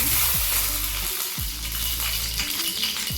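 Dried red chilies sizzle and crackle loudly in hot ghee while sambar rice is being cooked, a dense continuous frying hiss with brief stirring sounds over a steady low hum.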